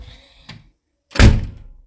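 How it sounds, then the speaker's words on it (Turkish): A door slams shut indoors at home: a faint knock comes first, then one loud, heavy thud that rings briefly before fading. "Anne kapıyı sen mi çarptın?"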